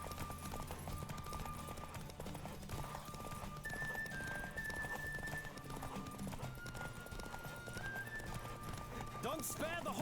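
A horse galloping in a race in The Witcher 3: Wild Hunt, with steady clip-clop hoofbeats throughout a ten-second stretch under game music, plus voices and a brief whinny near the end.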